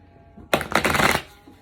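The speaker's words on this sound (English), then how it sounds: "We begin by shuffling the White Light Oracle." A single quick riffle of shuffling oracle cards, a brief papery flutter up close, with quiet surroundings before and after.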